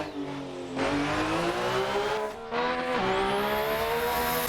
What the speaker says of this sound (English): Hit the rev limiter there a little bit.